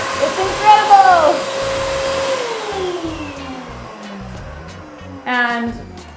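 A salon vacuum sucking up cut hair, a loud steady motor whine whose pitch sweeps downward and jumps when hair is pushed in, with someone talking over it.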